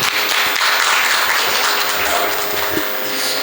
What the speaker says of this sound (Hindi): इसके लिए जोरदार तालियां बजाइए।